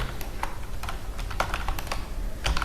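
Typing on a computer keyboard, a steady run of light, close key clicks in an irregular rhythm, heard alone without talk.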